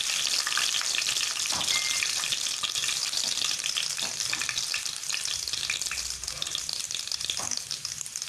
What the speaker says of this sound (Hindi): सबसे पहले लहसुन डाल देंगे ताकि लहसुन का जो टेस्ट है वो अच्छी तरह से हमारा इसमें मिक्स हो जाए।